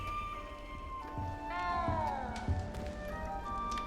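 Cat in Hogwarts Legacy meowing several times, drawn-out wavering cries rising and falling over a quiet low ambient bed, close and clear with a brief thump between calls.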